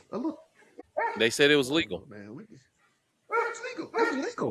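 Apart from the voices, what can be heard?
dog barking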